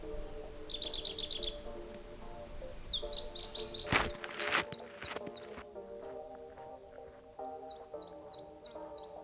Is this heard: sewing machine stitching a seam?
no